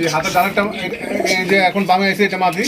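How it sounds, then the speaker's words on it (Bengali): Racing pigeons at a pigeon farm give soft, repeated coos close by, while someone talks over them. "এখানে রয়েছে আরো একজন রেসার কবুতর দেখতে পাচ্ছেন"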